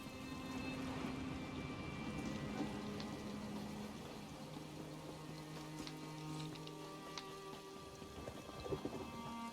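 Steady rain pours with thunder rumbling through a thunderstorm in Elder Scrolls Online, a dense wash of drops and low rolls filling the scene without talk.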